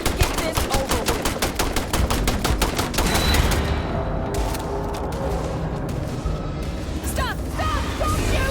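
Gunfire in the sci-fi video game Starfield, a rapid burst of many evenly spaced shots opening the scene, then scattered single shots and ringing impacts, with voices talking over it.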